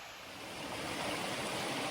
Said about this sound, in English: the way the water runs over the rock is very pretty here